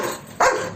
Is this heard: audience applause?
no